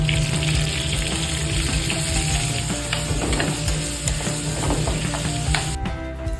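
Sliced chicken and vegetables sizzle loudly in a hot pan during a chicken oyster-sauce stir-fry, a steady close crackle with stirring scrapes that cuts off abruptly near the end.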